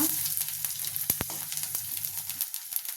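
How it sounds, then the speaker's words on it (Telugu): Onions fry in oil with a sprig of curry leaves and turmeric for a beans stir-fry, giving a steady close sizzle with a few sharp crackles and soft spatula scrapes. "ఉల్లిపాయ ఫ్రై అవ్వాలి ఫ్రై అయ్యాక ఒక రెమ్మ కరివేపాకు ఒక హాఫ్ స్పూన్ పసుపు వేసి కలుపుకున్నా"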